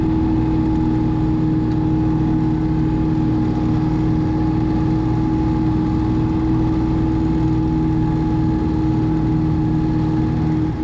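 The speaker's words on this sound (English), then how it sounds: "this tractor is not really capable of running it, although it does a very good job with it" A loud, steady engine drones without pause, a low rumbling 17-horsepower small tractor motor holding constant speed under the heavy load of a flail mower.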